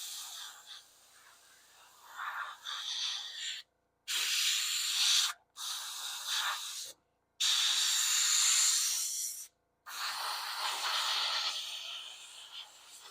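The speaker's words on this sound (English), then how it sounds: "I just want to make sure that it is spraying and that I'm not missing spots" Spray primer hissing from an aerosol can onto resin miniatures at a painting desk, several steady bursts of a few seconds each separated by short silent gaps, close and loud.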